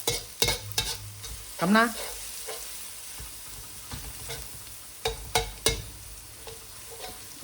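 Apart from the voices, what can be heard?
scallions frying in a wok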